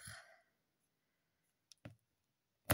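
Scissors snipping a plastic drinking straw to length for Christmas decorations: a couple of crisp, quiet clicks in near silence, with a soft breath at the start.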